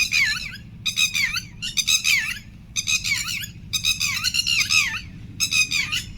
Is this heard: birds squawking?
yes